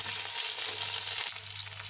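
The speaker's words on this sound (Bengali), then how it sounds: "এবার আমি দিয়ে দিচ্ছি টমেটো কুচি" Finely chopped tomato goes into a pan of onions fried light golden for a spicy fish curry, with a steady loud broadband sizzle that briefly shifts and settles as the tomato lands.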